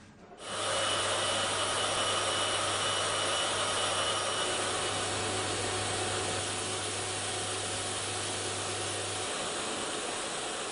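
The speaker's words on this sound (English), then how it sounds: "5 experts, 30 different vacuum noises" A vacuum cleaner motor runs steadily with a broad airy whoosh and a low constant hum, starting abruptly and continuing unchanged.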